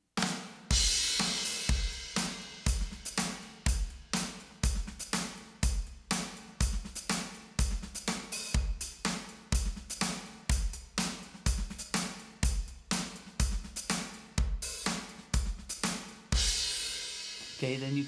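Full drum groove with an eighth-note hi-hat pattern layered over kick and snare, steady, loud and close throughout, with cymbal wash at the end.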